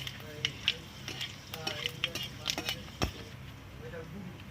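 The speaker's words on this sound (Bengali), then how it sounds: "আমি দুটো লঙ্কা, শুকনো লঙ্কা ছিঁড়ে দিয়ে দিলাম। তা আমি 5 ফোড়ন দিয়ে দিলাম।" Torn dried red chillies and five-spice seeds sizzle in hot oil in a kadai for pineapple chutney, a steady soft crackle with scattered sharp pops and stirring clicks.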